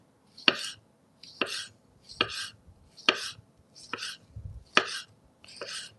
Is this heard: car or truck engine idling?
no